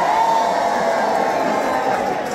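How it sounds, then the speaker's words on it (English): Audience cheering and whooping at a live gig by the Lancashire Hotpots, a loud dense crowd roar that holds steady throughout with scattered shouts. "Give us a cheer for the young methadoles!"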